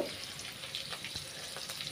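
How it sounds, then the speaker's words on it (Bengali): Onions and chilies frying in a kadai, a steady close hiss of sizzling oil with a few stirring scrapes, fairly quiet and continuous with no voices. "এবার আমি চুলাতে কড়াই দিয়ে দিব, দিয়ে পেঁয়াজ মরিচ ভালোভাবে ভেজে নিব।"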